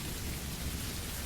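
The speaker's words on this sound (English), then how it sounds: "Outside, it begins to rain." Steady rain falling outside, a dense, even hiss with a low rumbling undertone, continuous and fairly loud, with no voices.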